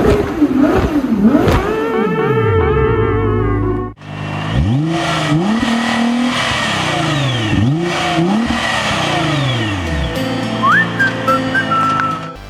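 A Nissan GT-R R35's 3.8-litre VR38DETT twin-turbo V6 revs repeatedly, loud and close, its pitch climbing and dropping in sweeping bursts with a thin turbo whistle on top. No one speaks.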